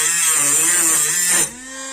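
Cordless 18650-battery mini rotary tool with an attachment pressed against a workpiece, a loud close whining buzz whose pitch sags under load, then drops to a lighter hum as pressure eases.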